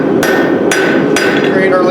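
Hammer striking hot metal stock on an anvil while forging a ball-ended leaf hook: three loud, ringing blows at a steady pace over a constant background hum.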